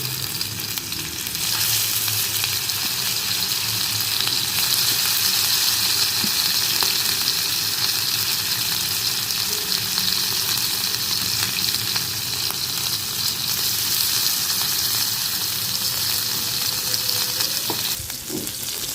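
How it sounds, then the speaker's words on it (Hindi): Tender, pre-cooked beef tikka boti pieces fry on a hot tawa with a loud, continuous close sizzle, stirring and scraping heard throughout without any talk. "बीफ टिक्का बोटी को अभी हम फ्राई कर लेते हैं। तवे पे इनको फ्राई करेंगे।"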